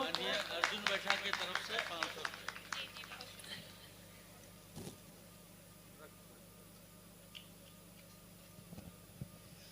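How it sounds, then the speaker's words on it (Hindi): A burst of audience clapping at a stage poetry recital, dense and lively for a few seconds, then thinning out and fading into quiet room noise. "एक भरपूर ताली दोस्तों।"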